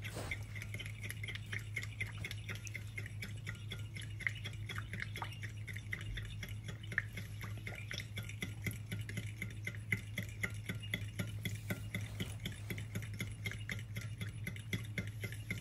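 Faint, steady stirring of a vanilla cheesecake mixture, with soft rhythmic ticking and wet scraping that continues without pause over a low background hum.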